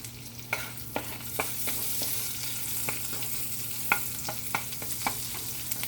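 Minced garlic frying in butter in a pan gives a steady close sizzle, broken by a dozen or so sharp pops and utensil taps spaced irregularly throughout.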